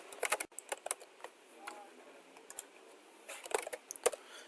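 Clicky keystrokes on a computer keyboard, typed in short irregular bursts with pauses between, fairly close and moderately loud against a quiet room.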